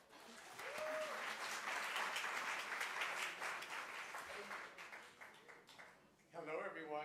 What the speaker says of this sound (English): Please give a big round of applause for Kippy Mart's.